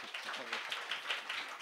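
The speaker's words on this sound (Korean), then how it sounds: "다시 한번 박수" An audience at a seminar claps briefly, a short burst of scattered hand claps heard faintly, with a voice speaking over the start.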